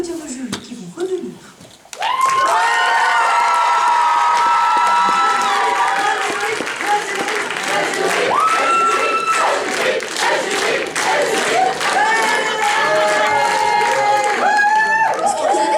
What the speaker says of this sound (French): On va déjà commencer par bien applaudir nos jurys qui vont revenir.